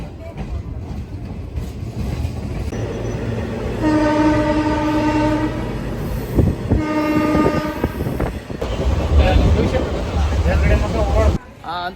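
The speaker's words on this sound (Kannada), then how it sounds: "ಈಗ ಇನ್ನೇನೋ ಕೆಲವೇ ನಿಮಿಷಗಳಲ್ಲಿ ಟ್ರೈನ್ ಬರುತ್ತೆ" A train pulls into Tiptur railway station, its horn sounding loudly in two long blasts over steady rumbling and wheel clatter, close by and dominating the scene.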